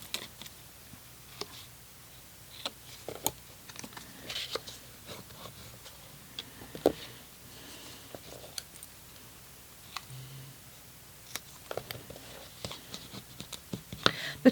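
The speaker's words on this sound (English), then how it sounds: "we want to just trim those down slightly and then give them a good burnish with our bone folder" Paper tabs on a handmade folded card being trimmed and burnished with a bone folder, heard as faint scattered clicks, light ticks and soft scraping strokes at close range with no talking.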